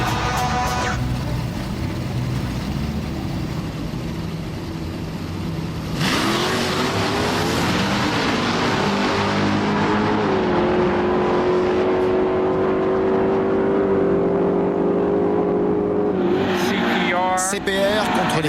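Several powerful street race cars, including a Camaro and a Z, rev and accelerate hard, loud and close, with rising engine pitch and a brief tire squeal near the end.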